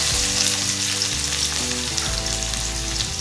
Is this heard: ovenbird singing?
no